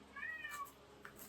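A house cat meows softly inside a home under renovation, giving one faint, slightly drawn-out call and a brief second chirp against low room noise.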